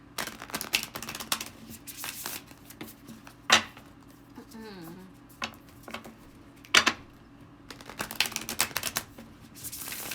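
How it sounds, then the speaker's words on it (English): Large tarot cards are shuffled by hand with soft rustling and taps, punctuated by two sharp riffling bursts, and a faint voice in the background. "definitely my hands have adjusted to shuffling this because it's a big boy"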